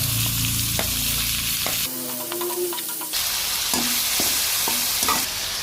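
Chopped tomatoes frying in a pan, with a bright continuous sizzle and repeated scraping stir strokes; the hiss briefly drops and thins partway through before surging back, close and loud without any talk.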